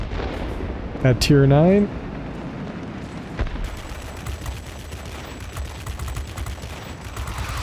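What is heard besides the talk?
F7U Cutlass aircraft guns firing in World of Warplanes video game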